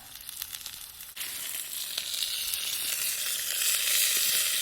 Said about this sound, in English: Let's turn this steak over.